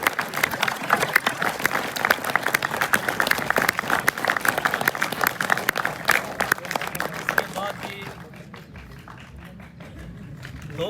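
Audience at a drama serial event at Mehran College, Mirpur, claps in dense, loud applause that thins and fades out near the end.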